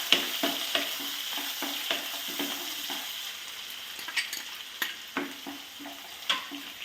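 Onions frying in a pan for a knol-khol curry, a constant sizzle broken by rhythmic stirring scrapes and taps up close, with no speech.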